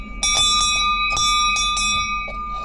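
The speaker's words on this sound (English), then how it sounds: "I'm gonna ring the bell too." Bear bell on a hiking trail through a fern-lined wetland, ringing in a steady series of bright metallic jingles up close, each strike leaving a sustained shimmering tone, with no talking.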